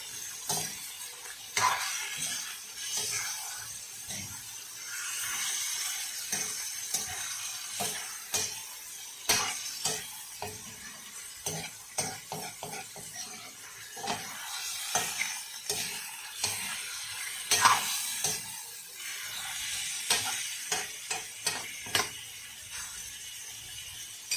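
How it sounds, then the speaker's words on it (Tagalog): Pork liver fries in oil in a pan while a utensil stirs and scrapes it repeatedly, with steady sizzling beneath irregular metallic clacks, close and alone. "Haluin natin para magkaroon ng oil at hindi dumikit."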